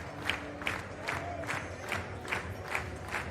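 A stadium crowd at an athletics meet in Košice, Slovakia, claps in a steady rhythm, about eight evenly spaced claps with a murmur of crowd noise between them, heard from a distance.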